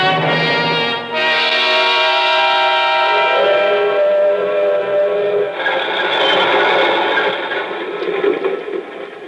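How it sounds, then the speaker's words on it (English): A freight train slows down as a radio drama sound effect, with a continuous loud rumble and a layered, horn-like tonal drone that shifts partway through, steady and close with no voices. "Why does a freight train always slow down 10 miles from nowhere in the middle of the night?"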